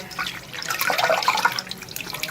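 Flour dough is washed by hand in water to release starch, with close splashing, swishing and trickling water sounds at moderate loudness and no voices.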